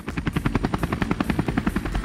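A cartoon rescue robot's rotor blades chop rapidly and evenly as it shifts into helicopter mode, a loud, close, steady thudding whir heard alone.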